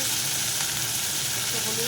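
Onion paste hits hot oil in a pan for a freshwater pond hilsa curry, giving a loud, dense, unbroken sizzle that fills the whole short stretch.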